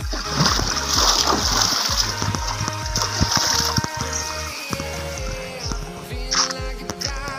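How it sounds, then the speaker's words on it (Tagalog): A strong stream of water comes down from the mountain and flows near a temporary bridge, splashing and gurgling steadily and close by, with faint voices underneath. "Ang lakas ng tubig pa rin, no? Galing sa bundok."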